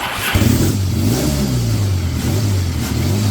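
A Triumph T140 fitted with a Meriden electric start cranks briefly, then fires and settles into a loud, close, throbbing run.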